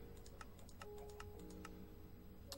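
Quiet, close keystrokes on a computer keyboard, a quick irregular patter of a dozen or so taps over a faint steady background tone.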